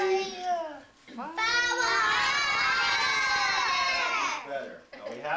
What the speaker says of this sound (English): Everybody's got to yell, okay?